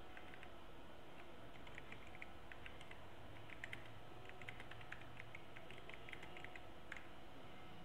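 Rapid, steady clatter of keys as a message is typed on a computer keyboard in Word 2010, close and fairly even over a constant background hiss, with no talking.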